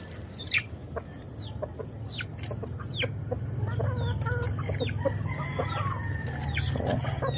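Backyard chickens cluck and chatter nearby while a rooster crows, with overlapping bird calls over a low steady rumble of background noise throughout.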